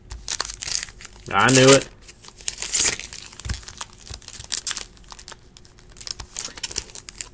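A foil wrapper on a 2018 Bowman Baseball card pack tears open in a short, loud crinkling rip, surrounded by quieter handling rustles and a brief spoken remark.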